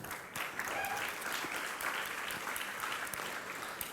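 A church congregation at a live Sukkot holy day service breaks into sustained applause, a dense wash of clapping that holds steady throughout.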